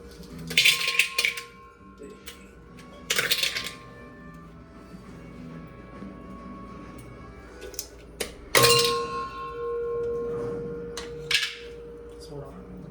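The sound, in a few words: ice being added to glass for mocktail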